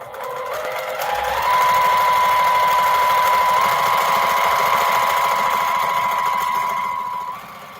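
Domestic sewing machine stitching 2.5 inch quilt strips, loud steady mechanical whir that spins up, holds an even high drone for several seconds, then slows and stops.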